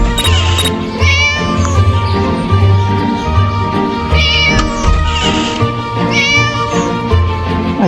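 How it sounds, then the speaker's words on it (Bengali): Loud, repeated cat meows from a video game, Scary Teacher 3D, ring out over a dense, electronic background hum, several drawn-out cries recurring every few seconds. "বিড়ালের শব্দ এদিক থেকে আসতেছে নাকি"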